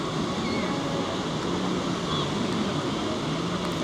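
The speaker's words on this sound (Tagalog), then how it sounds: "hampas ng alon" Surf breaking on a beach in Da Nang, Vietnam, a steady broadband wash of rolling waves that fills the whole stretch, with murmuring voices of people nearby blended into the continuous roar.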